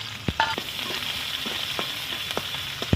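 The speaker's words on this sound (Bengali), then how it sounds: "তো পেঁয়াজগুলো দিয়ে দিচ্ছি, আমি ভেজে নেবো ভালো করে।" Onions frying in a pan for a Bengali fish roll, a continuous close sizzle broken by sharp clicks and taps of stirring, with no one talking.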